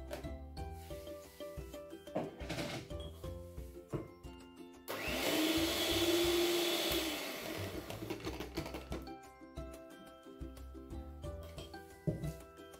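A loud, steady electric mixer whirs for a few seconds in the middle as it whips cream together with a passion fruit gelatin and juice mixture, between stretches of quieter kitchen noise.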